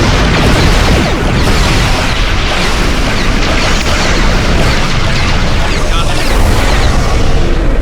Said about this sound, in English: Computer, arm all weapons and fire.